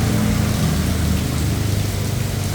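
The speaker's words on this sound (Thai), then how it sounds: "อำเภอเมืองกาญจนบุรีฝนตกครับ" Heavy rain from a storm in Kanchanaburi, Thailand, pouring in a steady dense roar with deep low rumble, loud and continuous throughout, with no voices.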